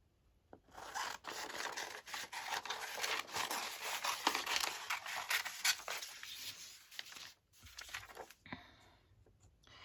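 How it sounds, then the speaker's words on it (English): Scissors cut an embroidered patch out of fabric for a Christmas junk journal, producing quiet, close snipping and rustling with irregular rhythm and a short pause near the end. "let's just cut the embroidery out"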